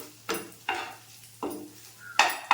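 Spinach frying with egg and pepper powder in a pan gives a series of four or five spatula scrapes and clinks against the pan, spaced about half a second apart, close, over a faint frying sizzle.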